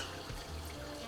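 Running water from a tap splashes briefly over fingers being washed, a short faint trickle in a kitchen.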